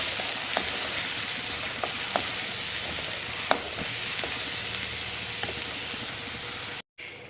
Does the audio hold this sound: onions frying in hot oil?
yes